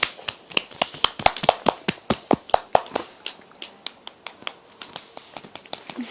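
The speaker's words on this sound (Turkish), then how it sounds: "Alkış." A few hands clap in a sparse, uneven rhythm, sharp close claps that thin out toward the end, with no talking.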